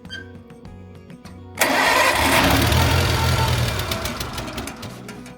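A 1950s Farmall tractor engine run on choke cranks with a few sputtering turns, then catches with a sudden loud roar and settles into a rough, steady running note, close by.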